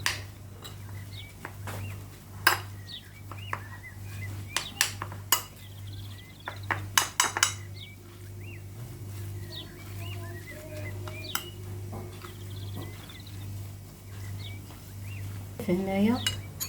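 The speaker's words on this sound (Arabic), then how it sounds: "صافي هادشي دابا غادي نخلطو" Utensils clink and scrape against a bowl while harissa, cumin, paprika and spices are mixed for a sardine kefta tagine, with sparse sharp clinks over a steady low hum and faint birdsong.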